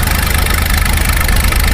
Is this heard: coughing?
no